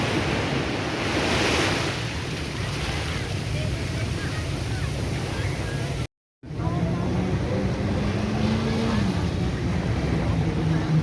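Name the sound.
sea waves at Nha Trang beach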